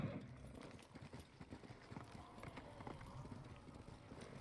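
A horse galloping in the Ghost of Tsushima video game, rapid rhythmic hoofbeats thudding steadily throughout, quiet in the mix with faint ambient game sound.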